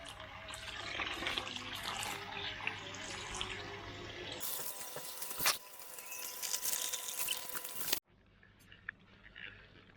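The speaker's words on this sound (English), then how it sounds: "Let's just fill it up with water so it can soak a little bit." Water pouring from a tap into a DIY aquarium filter container, a steady rushing fill that changes tone partway through, then stops abruptly and is followed by quieter trickling.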